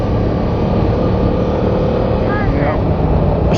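A 2022 World GP 60th Anniversary Yamaha R7 motorcycle engine while riding, a steady, close droning hum mixed with wind rush. A rider talks over it throughout.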